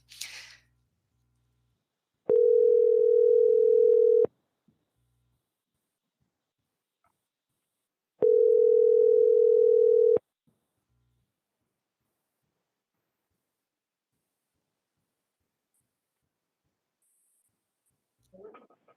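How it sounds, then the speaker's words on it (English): Two electronic phone rings on a conference call, each a steady tone lasting about two seconds, separated by a long silence, with brief faint noises at the edges. "So you will hear ringing, like a phone ringing."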